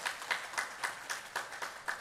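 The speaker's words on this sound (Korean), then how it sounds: "환영의 인사 박수로 한번 환영합시다." A church congregation gives a short round of welcoming applause during a Sunday morning service, with steady, evenly spaced claps at moderate distance and no talk over them.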